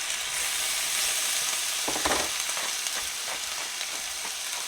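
Potatoes hitting a smoking-hot cast iron skillet, a dense continuous sizzle with a brief burst of louder crackle and a few stirring clinks, close and without voices.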